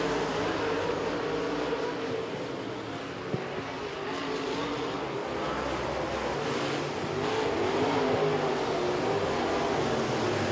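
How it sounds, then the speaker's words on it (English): Modified race cars roar around the Volunteer Speedway oval, a dense, continuous engine drone that holds steady and swells slightly as the pack passes. "Brian Shaw is gaining some ground on race leader Robert Poole, using that bottom groove to his advantage"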